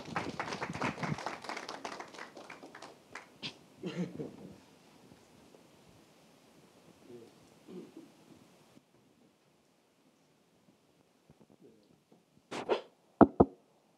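Audience at an education forum clapping in a brief dense burst that quickly thins out. Near-silence follows, then a few sharp knocks near the end.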